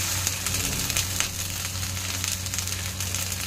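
Bun dosa batter poured into a hot oiled pan sizzles in a steady, dense hiss with a low background hum, continuous and close for the whole stretch with no one speaking.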